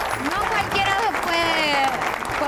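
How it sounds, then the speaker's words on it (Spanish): Audience applause rushes steadily in the background while a person talks over it, the clapping dense and constant throughout. "este aplauso para la aguanta"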